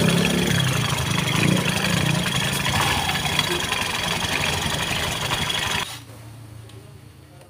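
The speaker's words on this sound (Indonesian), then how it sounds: "Sekarang udah dibuka bak CPT nya baru kedenger ini suara kasarnya." A Honda Beat scooter idles with its CVT cover removed, its engine running steadily with a rough, rattly drone from the faulty pulleys before it abruptly drops to a much quieter hum near the end.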